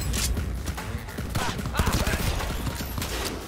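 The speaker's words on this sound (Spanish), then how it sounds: "Sí, sí, me está disparando el subnormal." Rapid bursts of enemy gunfire in the video game Cyberpunk 2077, played on PC on very hard difficulty, crackling as dense, overlapping shots that keep up steadily and fairly loud throughout.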